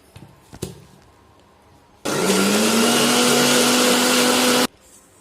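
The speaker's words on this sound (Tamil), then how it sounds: "இப்போ இதை மிக்சியில் நல்லா ஒரு நிமிஷம் நல்லா அடிச்சிடணும்" A mixer grinder whirs loudly for about two and a half seconds, churning milk cream with water to make butter, after a few handling knocks and before stopping abruptly.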